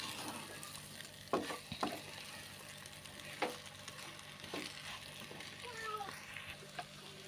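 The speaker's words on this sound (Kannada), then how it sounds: "ಕಾಯ್ದು ಹಸಿ ವಾಸನೆ ಹೋಗೋವರೆಗೂ 2 ನಿಮಿಷ ಫ್ರೈ ಮಾಡ್ಕೋಬೇಕು ಚೆನ್ನಾಗಿ" A grated coconut mixture for chicken sukka fries in a pan with a steady close sizzle, broken by occasional spoon scrapes and stirs.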